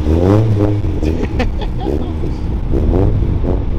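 A Rocket Bunny Nissan Z33 on blast pipes revs loudly and pulls away at the Daikoku car meet in Japan, its rasping exhaust rising and falling in close, continuous pulls with crowd noise underneath.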